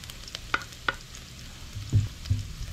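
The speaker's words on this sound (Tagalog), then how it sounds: "So magisa na nga tayo ng bawang. Unahin natin ang bawang." Chopped garlic sautéing in hot oil left in the pan from frying chicken, for a creamy chicken mushroom pasta. A soft, close sizzle runs under a few sharp utensil clicks and low stirring thumps, with no talk.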